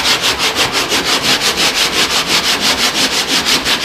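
Steady rhythmic back-and-forth scrubbing and sanding on a Mustang car's surface, about four strokes per second, loud and close, with no talking.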